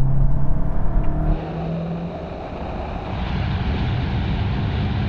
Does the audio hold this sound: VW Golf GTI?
yes